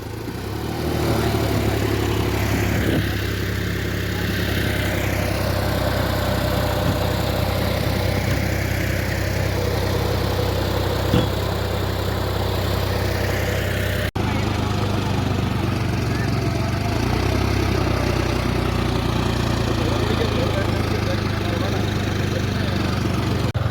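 A steady tractor engine drones near and loud throughout, a low continuous rumble with no pauses, while faint voices can be heard beneath it.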